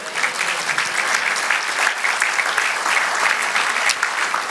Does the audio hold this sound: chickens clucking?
no